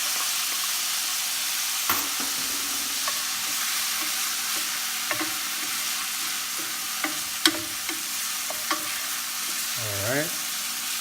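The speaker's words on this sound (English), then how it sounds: "Gonna saute the garlic here for 2 seconds, 2 or 3 seconds, and put onions" Garlic and onions sauté in a hot pan with a steady, even sizzle. Occasional sharp clicks and taps of a utensil against the pan break through the constant hiss.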